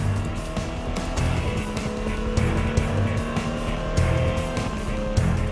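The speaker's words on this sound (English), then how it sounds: "After over 2 hours of the safety car, after Mike Rockenfeller's massive accident, we're back to green racing" Race cars at a 24-hour endurance race, Audi among them, roar as green-flag racing resumes after a long safety-car period, with steady engine drone and repeated rising surges as cars pass nearby, and no talking.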